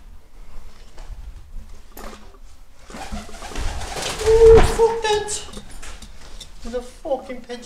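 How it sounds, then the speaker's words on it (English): A pigeon coos inside the derelict Victoria Theatre in Manchester, a short low call partway through, partly mixed with footsteps, rustling and a person speaking nearby in the echoing space. "Pigeon in here."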